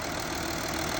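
A 2012 Hyundai Veracruz with about 190,000 km and a broken intake manifold idles roughly, giving a steady, dense engine drone with faint irregular knocking throughout and no voices.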